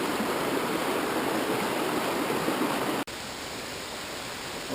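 Waterfall and creek in a deep forested canyon on the Oregon north coast, a dense, constant rushing hiss of water close by that briefly drops in level partway through.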